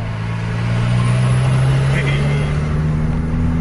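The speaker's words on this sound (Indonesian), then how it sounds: "Pas kita bilang gaspol langsung terasa suara turbonya." A Scania truck engine revs hard at full throttle, its tone climbing steadily while turbo whine and a heavy low rumble run beneath. The sound is loud and close, held for a few seconds.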